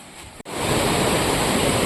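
Steady, loud broadband rush of a river flowing in light rain fills the clip after a brief dip near the start, with no voices.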